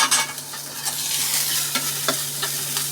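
Chopped onion and whole garlic cloves frying in a pan, a loud continuous sizzle with occasional scraping stir strokes, close up and without any talking.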